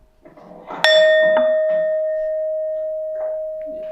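A single resonant metallic gong strike rings out after some low murmuring, its clear tone sustaining and slowly fading for several seconds during a meditation session.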